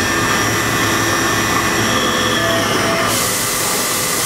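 A Haas VF-3 vertical machining center spindle turns at 5,000 RPM, giving a loud, steady, dense whine and rush that holds constant throughout and brightens slightly near the end, with no one speaking.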